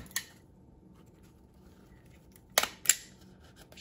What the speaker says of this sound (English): Just put a few staples in there to hold it in place.